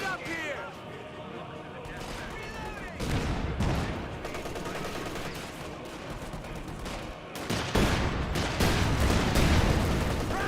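Gunfire and machine-gun bursts in a Company of Heroes 2 battle, with dense overlapping shots and louder impacts near the end, running under continuous commentary.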